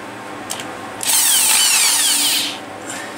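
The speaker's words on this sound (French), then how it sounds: "il faut que je perce en biais pour rejoindre le fond de ce trou là" A power drill bores an angled hole into yew wood for a nutcracker figure, a loud whining burst of about a second and a half that rises then winds down, very close, with no speech.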